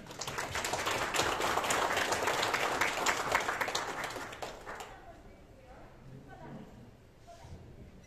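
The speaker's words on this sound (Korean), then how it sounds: "여러분 박수로 맞아주시길 바랍니다" An audience applauds to welcome a band at an event, with dense, loud clapping for about five seconds that then stops, leaving faint room sounds and a few soft noises.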